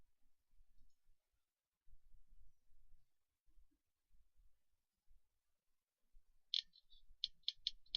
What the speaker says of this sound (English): there's an annoying clicking sound when they hit each other